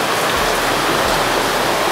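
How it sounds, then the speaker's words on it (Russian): Steady summer rain falls in a constant, dense hiss around a workshop while a Pajero Sport automatic transmission is being serviced, with no voices over it. "Летний дождь освежает."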